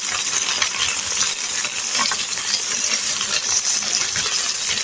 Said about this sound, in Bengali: এখন আমি উল্টিয়ে নিচ্ছি